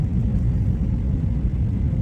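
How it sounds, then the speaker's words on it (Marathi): Steady low rumbling airplane cabin noise as the jet descends toward landing in Brussels, a continuous engine and airflow drone without voices. "विमान खाली उतरण्याची सुरुवात झाली"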